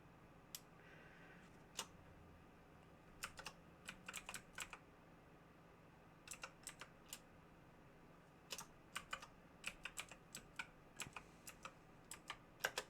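Computer keyboard typing during a game session: bursts of quick, light key clicks in irregular runs, close and fairly quiet against a faint steady hum, with no voices.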